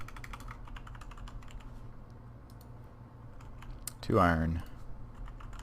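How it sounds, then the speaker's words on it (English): Typing on a computer keyboard to search for a skillet recipe in Minecraft, a light rapid clatter of keys under steady background hum, with a brief spoken phrase near the end. "Let's type skillet here."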